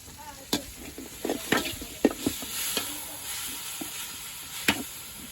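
Chopped tomatoes and green chillies sauté in hot oil for an egg masala, with a steady close sizzle under a few sharp scrapes and clacks of a stirring spoon against the pan.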